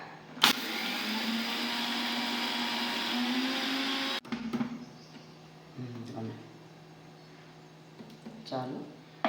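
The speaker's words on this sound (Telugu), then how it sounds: "మనం ఇప్పుడు ఆవాలు, మెంతులు మిక్సీ వేసుకుందాం మెత్తగా" A kitchen mixie grinder whirs loudly and steadily for about four seconds while grinding mustard seeds and fenugreek, then cuts off abruptly; afterward someone talks close by over faint background hum.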